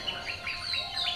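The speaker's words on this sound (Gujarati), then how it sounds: "અને પંખીઓ પાંખો ફફડાવી કલરવ કરતા" Small birds chirp and tweet in a steady run of short, bright calls, fairly close and moderately loud, with no talking; any wing flapping is not distinct.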